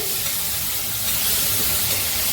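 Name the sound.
sautéing coriander, curry leaves and green chili in pan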